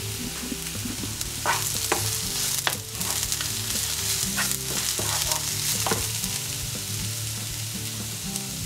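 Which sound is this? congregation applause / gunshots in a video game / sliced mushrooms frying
sliced mushrooms frying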